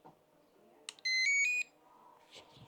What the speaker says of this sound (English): This is a demonstration of turning it on and listening to the beeps.